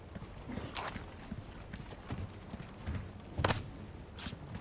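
Cow hooves pounding close by in Resident Evil 4 Remake VR, a string of sharp, uneven thuds and clops over steady game ambience.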